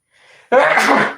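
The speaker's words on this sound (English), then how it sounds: "I'm gonna sneeze." A single loud sneeze bursts out after a short sharp inhale, close and sudden.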